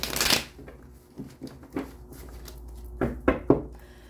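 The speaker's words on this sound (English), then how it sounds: "One more shuffle" Tarot cards shuffled by hand, a loud riffle at the start followed by several softer, scattered card flicks and taps, then a cluster of three sharper snaps near the end, with no talking.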